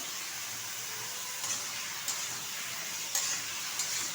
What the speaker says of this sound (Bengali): ভেন্ডিটা একটু হালকা করে ভেজে নেব।